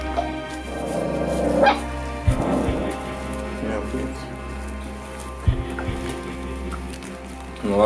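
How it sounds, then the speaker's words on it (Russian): Wild dogs bark outdoors in Bolderāja, a few barks standing out against steady background noise while people talk nearby. "Ты еще где-то лает?"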